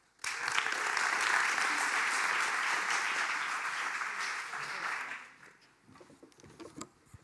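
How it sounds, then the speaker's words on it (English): Warm audience applause for Rob Huisman at an evening talk on Dutch graphic culture, a dense steady clapping of a sizable crowd that holds for about five seconds, then fades into scattered claps and room noise. "So please, a warm applause for Rob Huisman"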